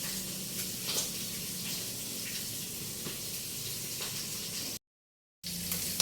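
A steady, crackling sizzle of saba bananas frying in hot oil, fairly quiet, broken by a brief silent gap.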